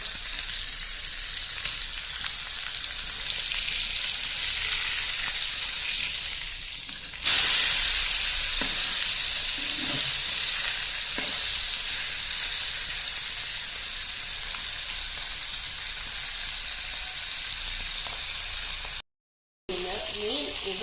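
Mackerel frying in hot oil gives a steady, loud broadband sizzle that runs unbroken throughout, with a brief louder burst partway in and a short dropout near the end.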